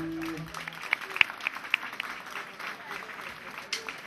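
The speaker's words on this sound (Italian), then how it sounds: "Un applauso al compaesano." An outdoor concert audience in a town square gives scattered, fairly light applause with a few sharp individual claps, some talking mixed in, and a brief sustained musical tone at the start.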